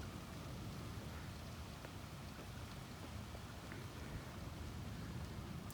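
Steady rain falls on a rainy day as a soft, continuous hiss with faint scattered drop ticks, even and unbroken throughout.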